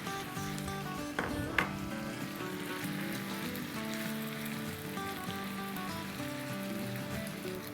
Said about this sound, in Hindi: 1-2 मिनट अदरक लहसुन के साथ फ्राई कर लेते हैं